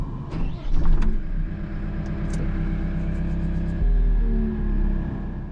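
A loader's engine idles steadily after starting, a close, loud low rumble with mechanical clatter early on and a slight shift in tone partway through.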